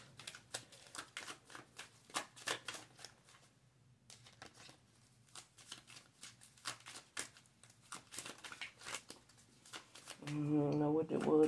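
Tarot cards being shuffled by hand: a steady run of soft, quick flicking and riffling taps, close and fairly quiet, with a voice speaking briefly near the end.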